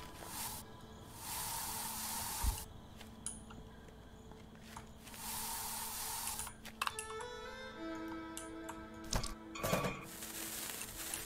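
Weed spraying in the survival game I Am Future, several bursts of soft broadband spray hissing, each lasting about two seconds, separated by quieter gaps with game sounds and some clicks.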